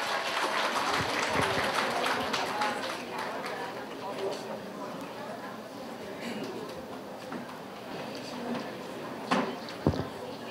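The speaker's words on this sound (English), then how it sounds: "A round of applause for our speakers, please." An audience at a nursing seminar on universal healthcare applauds its speakers, a moderate, fairly steady spatter of clapping that thins out gradually, with a few sharper knocks and some talking mixed in.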